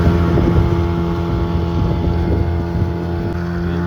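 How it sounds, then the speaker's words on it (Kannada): A fishing boat runs at speed with a loud, steady engine drone close by, buffeted by wind noise and the rush of water, with no one talking. "11 ಸ್ಪೀಡಾಗಿ ಓಡ್ತಿತ್ತು ದೋಣಿ"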